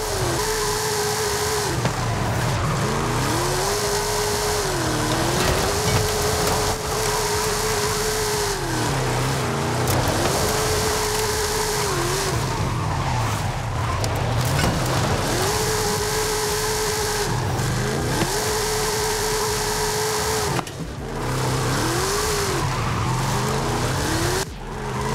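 A Hennessey Camaro Exorcist drifting in a racing video game played on a wheel: a loud, continuous engine roar that rises and falls with repeated revving, while tires squeal steadily throughout.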